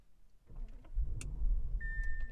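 A car engine cranks and catches after a soft electric whir, settling into a deep, throaty idle growl, with a short electronic beep near the end.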